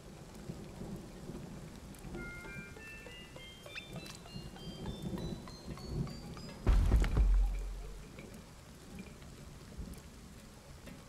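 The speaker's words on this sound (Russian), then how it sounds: "Блин, дождь, прикольно." Steady rain pours in the video game Kingdom Two Crowns, a dense hiss with a loud thunder crack and rumble partway through, accompanied by rising musical chimes and no talking.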